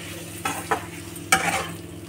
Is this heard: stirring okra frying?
yes